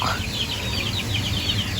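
Chickens in a backyard coop cluck and call steadily, a flock close by with overlapping bird sounds and a low background hum.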